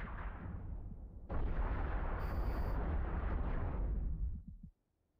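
Bombs going off in a space combat video game, a sustained loud rumbling blast that bursts in suddenly after a quieter opening rumble, roars steadily for about three seconds, then cuts off abruptly into silence.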